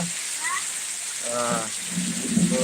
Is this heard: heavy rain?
yes